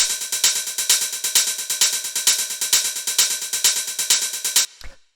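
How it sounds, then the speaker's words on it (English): Hi-hat sample from an acid techno track, looping in a fast, steady rhythm of crisp, bright ticks and sizzles with pulsing accents, loud and alone, stopping abruptly before a final low thump. "After that, we have the hi-hats, which sound like this."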